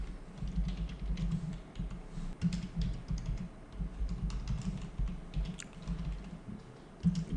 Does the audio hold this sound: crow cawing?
no